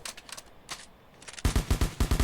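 Automatic assault rifle fire in the Roblox game Military Tycoon: a rapid burst of about eight loud, close shots in even rhythm, preceded by quieter scattered distant shots.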